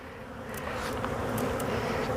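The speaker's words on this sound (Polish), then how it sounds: "Widzę młodą pszczołę" Honeybees swarm around an open hive at an apiary while frames are inspected, a dense, steady, close buzzing that swells slightly, with individual bees droning past.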